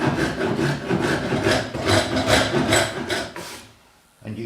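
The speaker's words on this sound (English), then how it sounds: "using a surf form." A surform rasp shapes the plywood seat of a handmade rocking horse, giving a run of rough, scraping strokes in steady rhythm, close and loud, before a brief pause.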